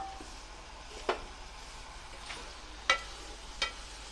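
Ground paste being stirred into a bitter gourd and bean avial with a ladle, with a faint low sizzle underneath and three sharp, brief scrapes or taps of the ladle spaced out across the stretch.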